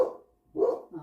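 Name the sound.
dog barking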